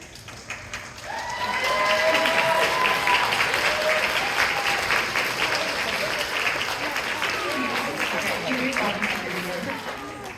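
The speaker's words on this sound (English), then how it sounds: "just give a round of applause to your family and friends here." Nursing pinning ceremony audience of graduates, families and friends breaking into applause, swelling quickly from quiet into a broad steady roar of clapping that holds and slowly tapers, with voices murmuring underneath.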